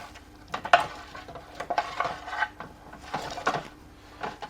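Seasoned roast potatoes with rosemary being stirred and tossed in a dish, producing irregular scraping, rubbing and soft knocking sounds in short bursts, close and moderately quiet.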